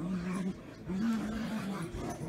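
Dogs whimper and whine indoors in a repeated rising, wavering pattern, several drawn-out cries close by, with talk faint under them.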